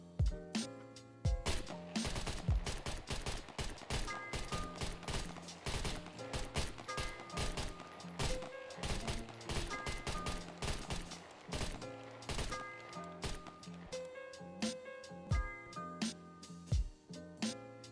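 Gunfire from the video game SCUM: a long run of sharp, close shots, some in rapid bursts and some spaced apart, with mechanical clicks and reload clatter between them.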